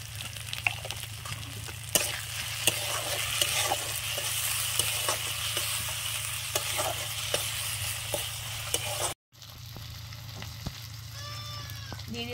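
Spice paste for a tengra fish curry sizzling and stir-fried in a pan over a wood fire, a steady loud frying hiss with scraping strokes, briefly cut off near the end before resuming more quietly.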